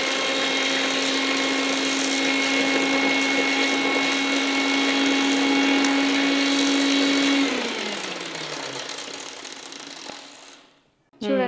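Loud, steady whine of a kitchen mixer grinder blending chickpea chutney with lemon, holding for several seconds before the motor winds down and stops, with a brief clatter at the end.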